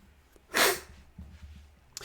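A single loud sneeze bursts out near the mic, with quiet breathing and low room noise around it.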